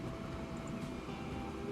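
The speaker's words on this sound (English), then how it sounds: "First train is rolling down the line." A simulated train in Transport Fever 2 rolls along steadily as a low, continuous rumble with faint mechanical hum, heard alone at a modest level.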